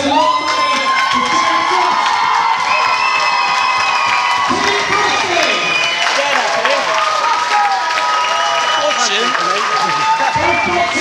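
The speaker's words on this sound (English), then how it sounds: "raise a massive round of applause to the Upshaw and Fraser Law" Crowd at a boxing event applauds and cheers loudly and continuously, with whoops and high shouts rising over dense clapping throughout.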